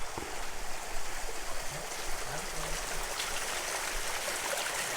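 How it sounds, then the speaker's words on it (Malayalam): A small stream at Ponmudi keeps up a steady, close rush of gurgling, splashing water that fills the whole stretch without a break. "സൗണ്ട് കേട്ടില്ലേ? കളകള സൗണ്ട്."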